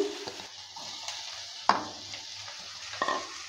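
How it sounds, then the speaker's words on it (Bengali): Figs frying in hot oil in a pan, a soft steady sizzle with a few sharp clinks of a spoon against the pan, close and fairly quiet, no voices. "এবার ওই তেলের মধ্যে ডুমুরটাকেও ভেজে নেব।"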